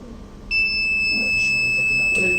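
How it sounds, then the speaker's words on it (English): An electronic buzzer alarm on a water quality monitoring system switches on as water temperature passes about 45 degrees Celsius, sounding continuously, a steady, piercing high-pitched tone that does not let up. "automatically buzzer continuously on"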